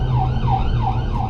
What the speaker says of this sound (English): It's just an ambulance. We're gonna let him pass when we have a chance.